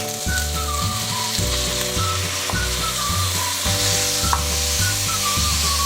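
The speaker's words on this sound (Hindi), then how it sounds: "इसी के साथ मैं ये चिकन डाल देती हूँ।" Small chicken pieces fry in a pan with ginger garlic for a chicken vegetable spaghetti, a constant loud sizzle with occasional spoon knocks and stirring, under background music.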